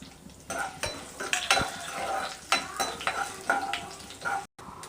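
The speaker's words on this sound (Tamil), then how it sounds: "இந்த கடலைப்பருப்பு ஓரளவுக்கு வதங்கினதுக்கப்புறமா நம்ம இந்த கிள்ளி வச்ச அந்த மிளகாயை சேர்த்துடலாம்." Chana dal and broken chillies fry in a pan, with sizzling and repeated scrapes and clinks of a spoon stirring against the metal, close and uneven in rhythm.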